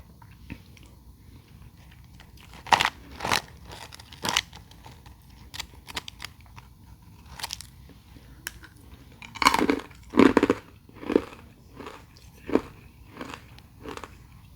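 Dense frost being crunched off a humidifier top piece, sharp close crunches heard one by one at first, then in a quicker cluster, against a quiet background.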